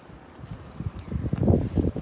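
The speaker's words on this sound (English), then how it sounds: "but very windy." Wind blowing through trees on a cold, sunny day in Hampton, New York, a soft rustling gust that swells louder toward the end, close to the microphone with no talking.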